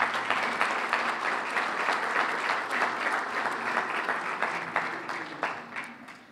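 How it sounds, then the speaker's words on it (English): An audience at an awards gala and talent show breaks into sustained applause, loud and dense at first, then tapering off toward the end with no voices over it. "Give that a round of applause."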